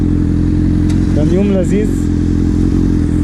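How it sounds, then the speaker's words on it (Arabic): A 2008 Honda Hornet motorcycle runs with a steady, loud, low engine drone close by, while someone speaks briefly over it. "وطلعنا جربنا الهورنت"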